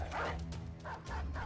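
A dog in the video game Battle Brothers lets out a few quick barks and yips in short bursts, heard amid the battle's background sound.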